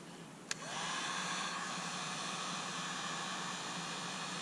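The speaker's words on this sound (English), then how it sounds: "I got a little heat gun and put some gloves on." A small heat gun blows hot air onto PVC conduit for bending, switching on with a click and then holding a loud, steady, hissing roar that stays constant.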